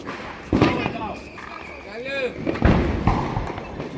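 Big sky shot fireworks launching during Diwali celebrations in Meerut give two sharp, booming thumps about two seconds apart, with people talking over and between the blasts.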